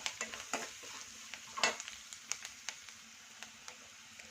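Onions with salt are stirred in a pan over a soft, steady sizzle, with a scatter of sharp scraping and clinking taps from the spoon against the metal, close and fairly quiet.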